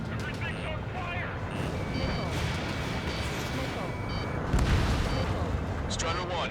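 An anti-aircraft gun is blown up in Ace Combat 7, with dense, continuous explosions and artillery-like booms rumbling over jet noise, and a louder blast near the end while radio chatter runs underneath.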